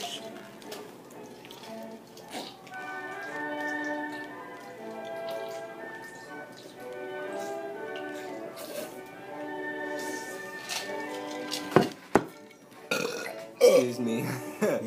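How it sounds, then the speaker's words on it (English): Two people burp at the same moment after drinking, a short loud double belch near the end of the clip, with chatter and music before it. "We burped at the same time."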